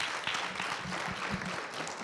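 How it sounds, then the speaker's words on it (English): An audience gives a round of applause to a panel at the close of a conference session on consumer trust in AI, a dense, fairly distant wash of clapping lasting a couple of seconds with no talk over it. "Please give my panel a wonderful round of applause"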